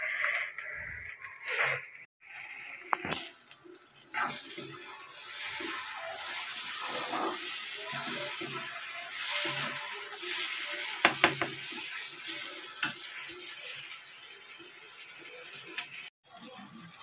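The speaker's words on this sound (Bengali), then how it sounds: "তেলে 1 গাদা চিনি দিলাম, চিনিটা পোড়ালাম, তার মধ্যে আদা রসুন দিলাম" Ginger-garlic paste frying in hot oil over burnt sugar, giving a continuous loud sizzle broken by irregular crackles, pops and clattering utensil knocks, with a short gap near the start and another near the end.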